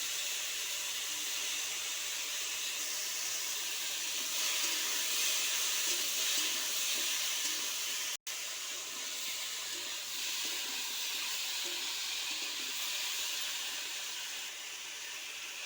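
Ridge gourd and potato pieces frying in hot oil with turmeric, a steady close hiss and sizzle that runs continuously with a brief cut midway and eases slightly toward the end, no voices.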